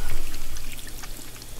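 Water pours and splashes for washing in Life Is Strange 2, a close, pulsing gush that is loud at first and eases slightly, with no talk.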